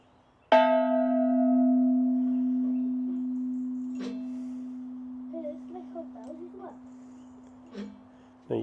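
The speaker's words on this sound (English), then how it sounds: "this bell is a replica of the medieval bell cast at Norton Priory" A replica of the medieval bell cast at Norton Priory rings out once with a loud, sharp strike and a long sustained hum that slowly decays, followed by lighter taps and a second faint strike, with brief voices near the end.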